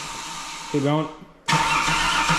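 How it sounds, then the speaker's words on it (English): A Holden VY car engine cranks without catching, a steady broad churning that begins abruptly after a short spoken line and carries on loudly to the end. "we'll just crank it first, then we'll go through and do a code clear, and then we'll hit the key to try and start."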